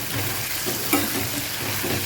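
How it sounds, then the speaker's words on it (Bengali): Spice paste of ground chilli, ginger and garlic being stirred and fried in a pan, a steady close sizzle with soft scraping strokes of the spoon throughout. "এবারে খুব ভালো করে এই মশলাটাও কিন্তু কষিয়ে নেব, কোনো কাঁচা গন্ধ থাকবে না।"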